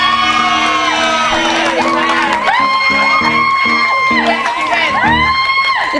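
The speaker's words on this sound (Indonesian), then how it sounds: "Teriakannya seru banget." Studio audience on an Indonesian TV talk show screaming and cheering, a dense mass of shouts and whoops mixed with music tones, loud and continuous throughout.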